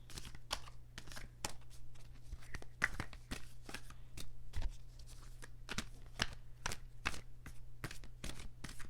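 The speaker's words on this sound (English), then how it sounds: "Let's pull a couple of astrology cards for you." Astrology cards being shuffled and pulled from a deck: a steady run of quick, crisp papery flicks and snaps, fairly close, with a low constant hum underneath and no talking.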